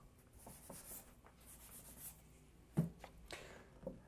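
Chalk or marker scratching and rubbing across a board during a maths lecture, a few quiet strokes with soft taps, faint and close in a quiet room.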